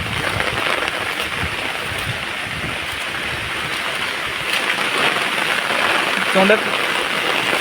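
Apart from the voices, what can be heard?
heavy rain falling outdoors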